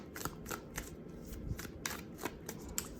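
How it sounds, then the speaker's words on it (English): Tarot cards being shuffled by hand, a quick series of crisp riffling bursts at a steady rhythm, close and fairly quiet, with no speech. "if you would like to fast forward through me shuffling, I would not be offended"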